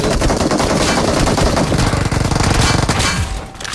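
Loud, sustained automatic gunfire from the PUBG Mobile video game, with rapid bursts of shots blending into a continuous rattling roar that dips only briefly near the end.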